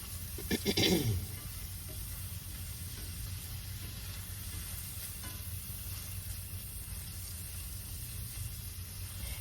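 A wine reduction sauce made with drinking wine simmers in an iron skillet, giving a steady, soft sizzling hiss throughout, with a brief stirring scrape near the start.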